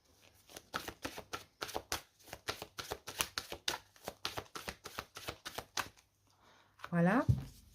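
Oracle cards are shuffled and flicked in a fast, even run of crisp papery snaps for about six seconds, close up, followed by a brief spoken voice.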